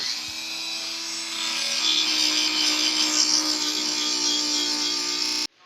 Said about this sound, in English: any kind of moto tool and round off these edges to curve them over